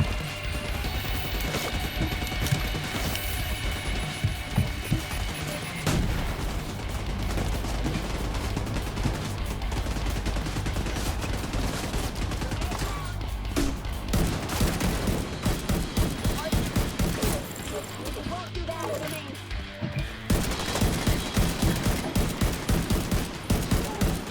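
Dense, continuous gunfire from The Division 2 video game, with rapid overlapping bursts and crashes filling the whole stretch at a steady, loud level.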